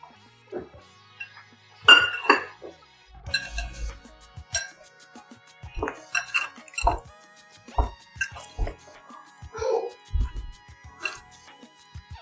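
Boiled potato, peas and poha being mixed by hand in a bowl in a home kitchen, soft squishy mashing with occasional clinks against the bowl, irregular and close, no talking.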